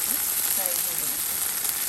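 Okra frying with green chillies in coconut oil gives a steady, quiet hiss and sizzle, with faint stirring noises throughout.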